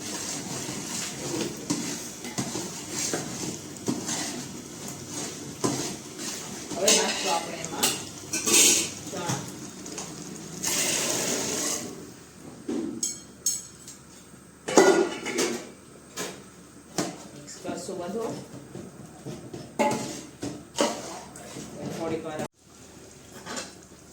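Homemade garam masala is stirred into a chickpea curry in a pot, with repeated metallic clinks and scrapes of a spoon against the pan. A voice talks over the clatter throughout.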